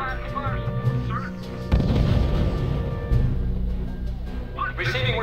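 Machine gun fire support in the R.U.S.E wartime strategy game, a steady stream of rattling bursts and heavy booms beneath a commander's radio-style voice, loud and continuous with swelling battle noise.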